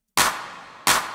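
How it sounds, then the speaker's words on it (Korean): A layered snare sample for a dance track, one layer clap-like and the other with a resonant drum-shell body, strikes twice with bright, noisy cracks about 0.7 seconds apart. Each hit has a short ringing tail, close and alone. "하나는 약간 클랩 느낌의 스네어, 그리고 하나는 약간 그 통, 완전 그 울림통이 딱 있는 그런 스네어죠"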